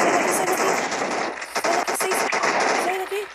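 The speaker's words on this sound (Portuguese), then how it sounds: "Tiro pra caramba." Rapid gunfire from a sniper survival video game set in an American block, loud bursts of shots crackling over continuous game noise, with a voice talking at times.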